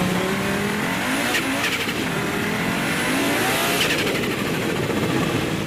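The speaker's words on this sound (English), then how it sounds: "The turbo popping and banging a bit and all the noise from that" An Audi S1 roars past loudly, its engine note rising and falling with bursts of crackle from the turbo, set against a continuous broadband rush of road and motor noise, with no voices.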